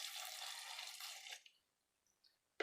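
Water poured into a pot for boiling potato curry with green chilies and salt: a steady, splashing pour lasting over a second, then near silence broken by a couple of small knocks.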